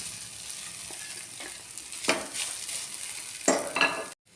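Onion and coconut fry in a pan for masala chutney: a soft, continuous sizzle broken by a few louder stirring scrapes, cutting off abruptly near the end, with no speech.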